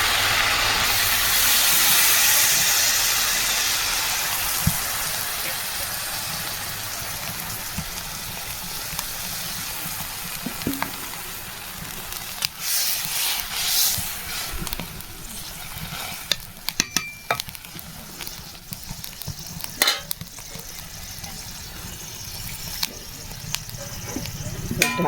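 Broth poured into a pan of sautéed spices, a steady loud sizzle and hiss of frying that slowly settles, with stirring clatter and a few clinks of utensils.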